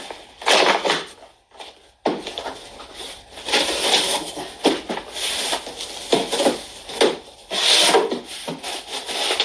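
Stapled cardboard package delivered by UPS being torn and pried open, with repeated scraping, rubbing and ripping bursts close by and a brief pause early on.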